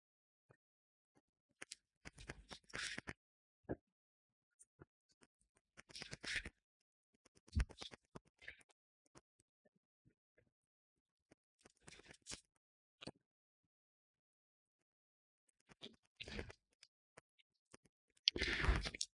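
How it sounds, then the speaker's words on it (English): Tarot cards shuffled by hand in several separate bursts of riffling and sliding, crisp and close, with quiet pauses between them and no talking. "Let's start by shuffling"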